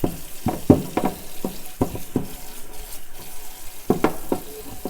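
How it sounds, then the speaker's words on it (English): A metal baking sheet is rinsed under hot running water after washing with dish detergent, giving a steady wash of water with scattered clattering knocks from the pan close by. "hot water and rinse off the pan"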